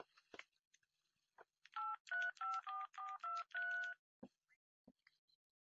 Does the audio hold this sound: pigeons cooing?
no